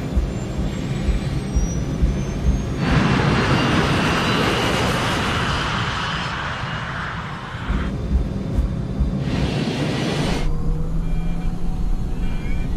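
Scandinavian airliner engines spooling up to takeoff thrust as the plane rolls down a 2,400-meter runway at Linate Airport, a loud, steady roar that swells and holds for several seconds.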